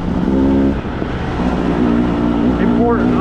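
A Beta 200RR dirt bike ridden in the desert, its two-stroke engine droning and revving close by, with a brief throttle rise near the end, partly under talking.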